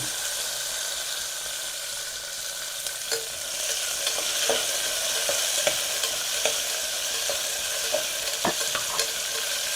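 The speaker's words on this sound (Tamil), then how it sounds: "இப்போ கருவேப்பிலை போட்டுக்கலாங்க வெங்காயம் சின்ன வெங்காயம்" Curry leaves and small shallots frying in hot oil in a pan after fennel seeds, a loud, continuous close sizzle with scattered pops and crackles, no talking.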